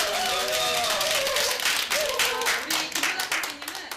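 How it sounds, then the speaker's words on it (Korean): An audience at a cooking class breaks into a burst of clapping that fades over a few seconds, with a voice speaking over the applause. "먼저 박수로 시작하겠습니다."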